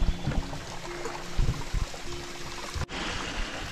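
Water streams from a pipe to drive a small water-powered model in a fairy-tale forest display, a steady close trickle and splash with a brief dip near the end.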